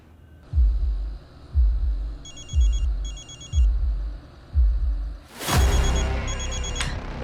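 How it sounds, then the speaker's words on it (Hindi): A mobile phone rings with an incoming call, a bright repeating ringtone over steady low dramatic pulses, and a sharp loud burst near the end. "पापा ध्रुव के नंबर से फोन आ रहा है."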